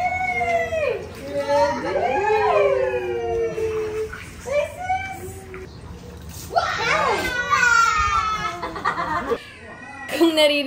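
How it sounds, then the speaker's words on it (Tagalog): Children play outside during a family outing, their high voices calling and chattering in rising and falling bursts over a steady background, close and fairly loud. "Kung naririnig niyo yung mga bata sa labas, si Athena at saka si Lucas yun."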